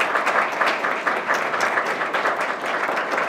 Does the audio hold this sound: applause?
yes